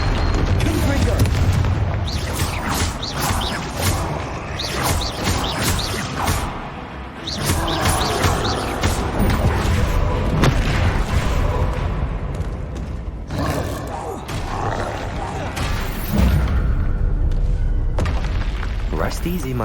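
A Confringo fire spell blasts in Hogwarts Legacy, bringing heavy booms and roaring rumbles that repeat through a chaotic fight, with whooshes and a voice heard amid the loud action.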